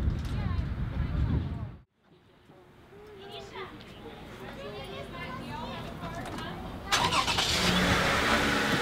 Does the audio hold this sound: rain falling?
no